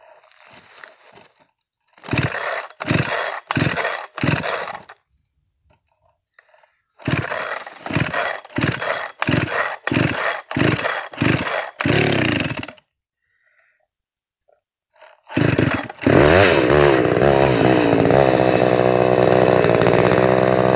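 A Homelite XL123 chainsaw is pull-started with repeated rhythmic cord pulls in two rounds, then catches and runs loudly, revving steadily while cutting wood.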